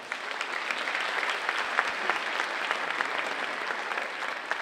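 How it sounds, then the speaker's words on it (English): Sustained applause from a commencement audience honoring staff and student ambassadors, a steady dense patter of many hands clapping at even volume throughout. "please give them all a round of applause"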